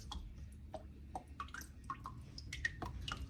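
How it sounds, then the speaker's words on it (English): Water dripping and draining from a paper-making screen after the frame is pushed from below, scattered close drips and small wet squishes in a quiet room. "And then you can push on the bottom to help the water drain out."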